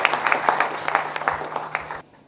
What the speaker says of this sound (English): So please, a big applause to our women.